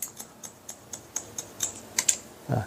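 Scissors snipping through a middle-aged woman's hair during a bob cut in a salon, about a dozen short crisp snips in a steady rhythm, close and fairly quiet, with a slightly heavier cut at the end.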